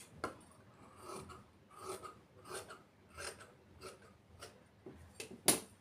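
Scissors cut through the lining fabric of a child's lehenga, making repeated soft rasping snips in a steady rhythm, close and fairly quiet, with no talking.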